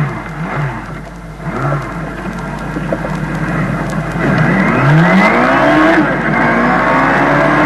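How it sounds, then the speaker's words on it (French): A car speeds away at full throttle, its engine note climbing in rising sweeps over a steady road rumble. The sound grows louder and fuller toward the end, with no voices. "Et Agiru Nanko s'éloigne à toute vitesse dans sa voiture"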